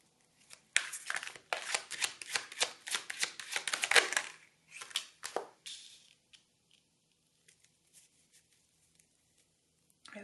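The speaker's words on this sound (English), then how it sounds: "Let's pull some more cards." Tarot cards shuffled by hand in a pick-a-card reading, a rapid run of close, crisp riffling and slapping bursts for several seconds, then tapering into occasional faint taps and near silence.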